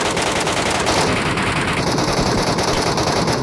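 Sustained automatic gunfire from the Metro Royale video game, a loud, dense stream of rapid shots with overlapping bursts continuing throughout without pause.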